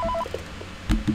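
Brief electronic telephone tones from a phone call in Five Nights at Freddy's 3, a few quick beeps followed by a soft clunk and a short click, loud and close.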